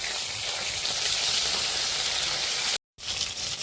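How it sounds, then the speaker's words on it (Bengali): Koi fish fry in oil in a pan with a dense, constant close sizzle that cuts out briefly near the end before resuming. "আর এই যে কই মাছ বসিয়ে দিয়েছি ভাজতে।"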